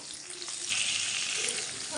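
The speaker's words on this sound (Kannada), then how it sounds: "ಒಂದು ನಿಮಿಷ ಇರಿ ಒಗ್ಗರಣೆಗೆ ಹಾಕ್ಕೊಂಡ್ಬಿಡ್ತೀನಿ" Spices crackle and sizzle in hot oil for a Kannada-style oggarane tempering, a dense, steady hiss that swells slightly partway through, close and without voices.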